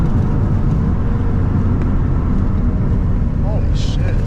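An Infiniti G35 engine roars under hard, spirited driving, a close and loud continuous rumble inside the car with brief higher-pitched sounds near the end.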